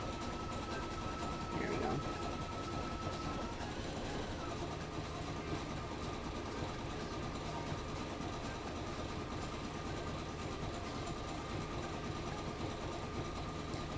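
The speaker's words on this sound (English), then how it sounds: "I do like the sound the embroidery machine makes. Like, it's really loud." A loud embroidery machine runs continuously, giving a steady mechanical whir with fast, even clatter and no pauses or speech.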